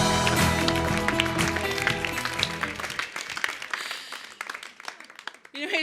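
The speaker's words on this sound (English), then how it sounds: "Give Sage a big round of applause." Audience applause at a speaker conference welcoming a speaker to the stage, a dense steady clapping that starts under loud music and thins to scattered claps toward the end.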